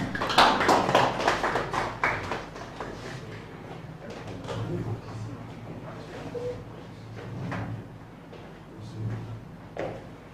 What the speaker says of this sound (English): Please, a round of applause for Mr.